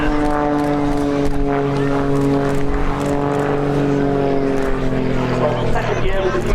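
A propeller aircraft flies an inverted pass at the Abingdon Air and Country Show, its droning engine loud and steady with sustained harmonic tones that shift slightly. A commentator speaks over it throughout.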